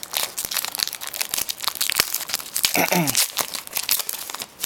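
Plastic wrapping and cardboard crinkle and tear as a 2011 Topps Rising Rookies football card box is opened, with a steady run of close crackling rustles and snaps and a brief voice partway through.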